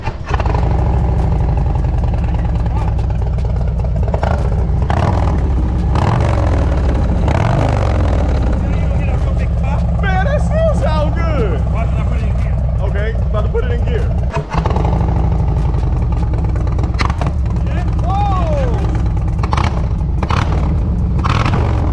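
Motorcycle engine idling in neutral with slight revs, a steady low rumble running throughout at close range, joined by a few brief whines and clicks.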